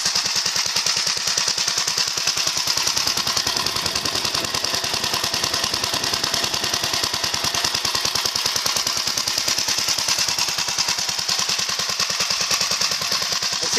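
The small engine of a 1963 Gravely LI garden tractor idles steadily with a rapid, even chugging rhythm, close by and continuous with no talking.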